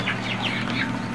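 Baby chicks on a farm: a run of high, thin peeping calls over a steady low hum, close by.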